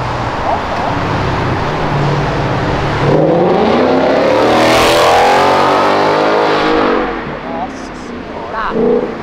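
A car engine in a Volkswagen Gol hatchback revs hard, rising to a loud roaring peak before easing off, with road noise around it.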